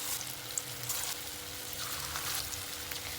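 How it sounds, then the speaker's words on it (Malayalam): Jackfruit seed batter hitting boiling oil in a pan, a steady, close hiss and crackle of deep frying that carries on evenly throughout without voices. "ഒരു സ്പൂൺ ഉപയോഗിച്ച് നമുക്ക് കുറേശ്ശെയായി തിളച്ചു വന്നിട്ടുള്ള എണ്ണയിലോട്ട് ഈ മിക്സിനെ കോരി ഒഴിക്കാം."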